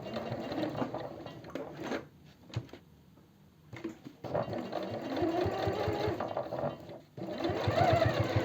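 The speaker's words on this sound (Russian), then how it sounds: "Делаем строчку в край и потом параллельно ей тоже строчку." Sewing machine running in bursts while stitching a seam on men's jeans, an edge stitch followed by a parallel row, with short pauses between steady mechanical runs.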